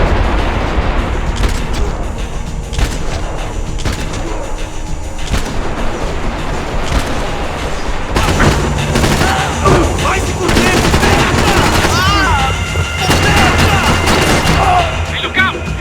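Sustained bursts of gunfire from a Max Payne 3 firefight, with sniper shots mixed into dense, loud volleys and booms that continue throughout, while a voice speaks briefly over the shooting.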